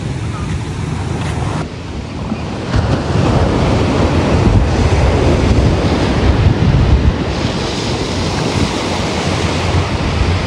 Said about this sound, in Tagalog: Kaya malakas po ang alon.